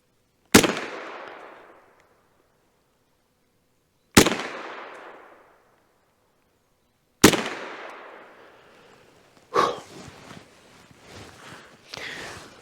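Three loud, sharp gunshots from a Kel-Tec SUB-2000 carbine, spaced a few seconds apart, each with a long ringing decay, followed by rustling and clattering handling noises.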